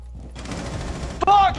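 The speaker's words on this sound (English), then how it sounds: "Who the fuck is shooting at me?" Rapid burst of gunfire in the video game Rainbow Six Siege, a dense rattle of shots followed by a sharper loud crack near the end, with no talking.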